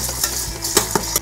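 Sugar and tomato paste stirred in hot oil in a pan, a steady sizzle with several sharp scraping clicks of the utensil, close and loud with no talking.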